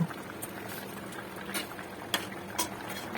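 Water comes to a boil in a pot for a Bengali tarai fish curry with potato and eggplant: a dense bubbling simmer with sharp pops and splutters breaking through now and then.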